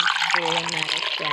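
Liquid poured into a cup in a cafe setting, a short close trickle lasting about a second while a voice talks over it.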